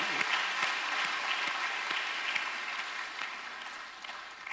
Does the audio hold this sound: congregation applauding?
yes